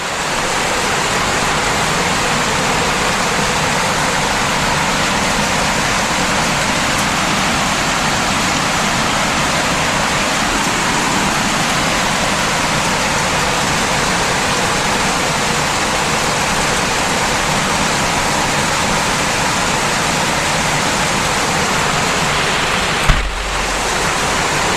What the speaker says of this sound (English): We're gonna have to wait till it stops raining. It is raining outside.